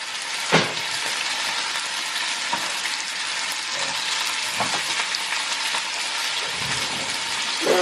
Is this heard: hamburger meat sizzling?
yes